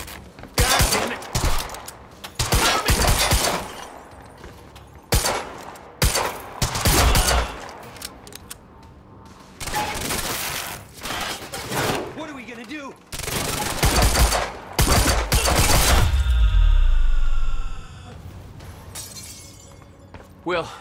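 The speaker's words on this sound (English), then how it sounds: "Shooting at us!" Gunfire in the video game Quantum Break, with bursts of shots and shattering impacts coming in loud clusters, mixed with voices talking and shouting throughout.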